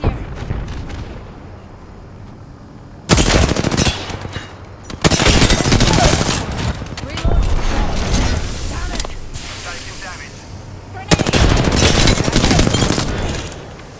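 Gunfire and explosions in Apex Legends, with heavy bursts of rapid automatic shots and booming blasts that break off and start again in loud close waves, separated by quieter stretches.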